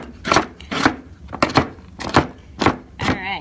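A knife chopping candy bars for a chocolate trifle: about seven firm, evenly spaced chops on a board, close and fairly loud.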